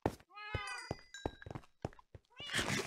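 A cat in Minecraft gives a run of short, rising meows, several distinct calls in quick succession, close and clear, ending in a burst of noisier sound.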